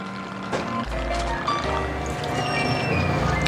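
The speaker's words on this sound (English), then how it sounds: "We're gonna do a nice 2 ounce pour of the Libre Silver." Libre Silver tequila poured into a cocktail shaker, a steady liquid trickle heard close and continuous over a low background hum, with no talking.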